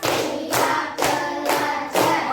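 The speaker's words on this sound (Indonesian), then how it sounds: "Tepuk 1, tepuk 2, tepuk 3, tepuk 4, tepuk 5." A class of children claps in unison, four or five sharp, evenly spaced group claps ringing out in a steady counted rhythm in a classroom, loud and close with no talking.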